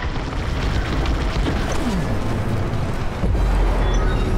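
Bombs detonating during a bombing run in the space combat game Star Wars: Squadrons, a dense, continuous rumble of booms and bursts with a heavier blast near the end, loud and close with no talk over it.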